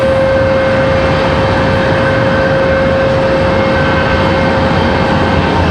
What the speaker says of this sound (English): As Breeze Airways touches down